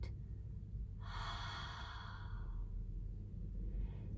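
A person breathes out slowly and steadily during a guided belly-breathing relaxation exercise, a soft, airy exhale of about a second and a half, close and alone against a low background hum.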